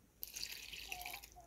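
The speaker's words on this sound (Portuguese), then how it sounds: "Tá colocando aqui o leite." Milk being poured into a pan on a wood-fired stove while making a creamy cornmeal cake, a faint, soft, continuous trickling splash lasting about a second, with no talking.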